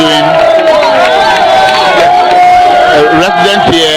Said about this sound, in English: Residents here are cheering him up